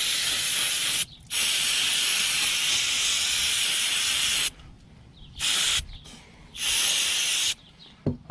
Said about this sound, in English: I'm going to spray it with some of this carburetor choke cleaner